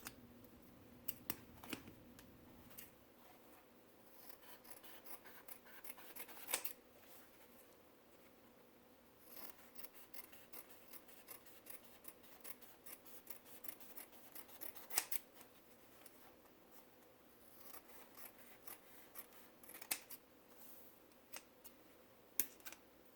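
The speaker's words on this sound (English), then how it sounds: "Now cut the paper towel layers to the size of the facial tissues." Scissors snip through stacked paper towel layers being trimmed to size for a homemade face mask, producing a long run of close, crisp cuts and rustles at an uneven pace.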